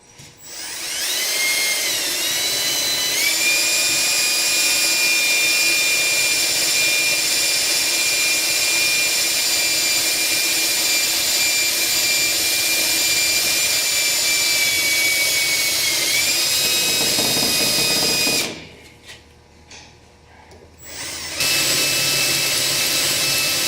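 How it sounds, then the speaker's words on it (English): Steady high-pitched whine of a drill running a 1/8 inch bit into a thick metal casting to bore pilot holes, loud and continuous, with a brief pause near the end before it spins up again. "So we'll go ahead and start drilling those."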